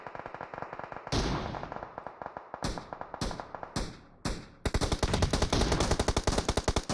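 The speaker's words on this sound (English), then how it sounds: "Ollie still sending shots off." Rapid bursts of gunfire in the mobile battle royale game PUBG Mobile during a competitive scrim: several sharp separate shots, then sustained fast automatic fire, loud and close with no talk over it.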